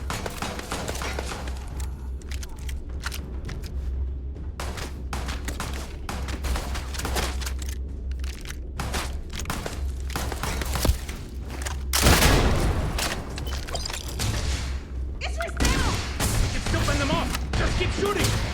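Sustained firefight in Starfield, with rapid repeated gunshots, heavy booms and thuds layered over a low rumbling bed, intensifying into louder blasts in the latter half, with a voice faintly mixed in.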